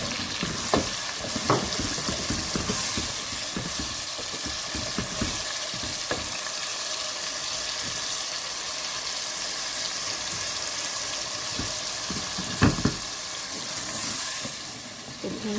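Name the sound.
frying ground tomato paste in a pot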